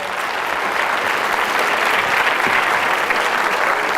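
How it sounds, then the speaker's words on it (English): Sustained audience applause fills the room at a talk answering questions about hypnosis, steady and dense throughout with no voices breaking through. "Round of applause."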